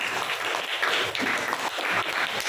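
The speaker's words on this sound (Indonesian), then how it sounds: "kita berikan aplaus dulu untuk kelompok 2" A classroom audience claps for student group 2 after their quadratic functions presentation, steady dense applause from many hands lasting a couple of seconds at moderate volume.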